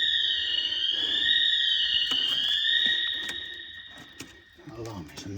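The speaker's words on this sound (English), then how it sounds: "That alarm is annoying." A store alarm blares inside an abandoned Toys R Us store, a sustained, warbling electronic tone that dominates the space, while people talk and rummage nearby.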